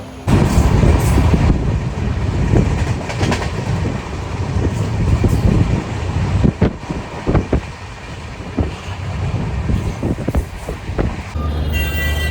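A train rumbles along steadily with loud, continuous low-frequency noise, rattling wheels and occasional clanks, heard from inside a sleeper carriage as it reaches LTT station.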